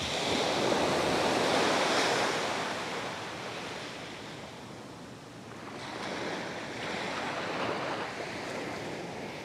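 Ocean waves roll onto the sandy beach of Praia de Lourido in Galicia, giving a steady, close roar of surf that swells and fades with each breaker, with some wind.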